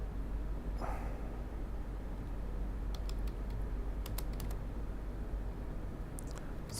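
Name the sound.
typing MATLAB code on a computer keyboard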